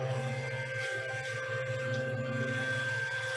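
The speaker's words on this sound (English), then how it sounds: "somebody's got their vacuum cleaner going here" A vacuum cleaner drones steadily in the background, a continuous low hum with a faint whine running evenly throughout.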